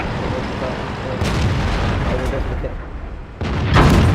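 Tank cannon fire in World of Tanks with the AT15A tank destroyer, rounds striking enemy armor: heavy booming blasts and rumbling impacts, loud bursts around one and a half seconds and near the end, over a dense low battle roar.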